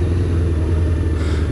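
Motorcycle engine idling roughly with too much choke, a steady loud low rumble close by with a slight lift near the end.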